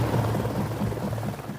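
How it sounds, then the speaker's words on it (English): A helicopter's rotor blades thump in a fast, steady chop with an engine drone underneath, loud and continuous with no voices. "As the sound of rotor blades fills the air, Andrei is forced to take cover."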